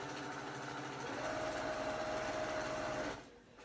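Sewing machine stitching quilt binding, a steady close whir with a constant hum that runs for about three seconds and then stops.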